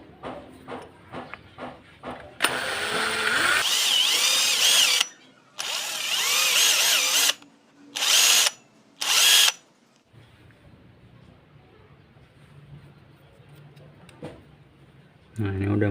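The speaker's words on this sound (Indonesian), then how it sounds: "Lur, di sini saya pakai mata bor 8 ya." An 8 mm drill bit bores a bearing seat for a scale model RC truck driveshaft, a high whining power drill running in several bursts of a few seconds each, close and loud, with someone talking between them.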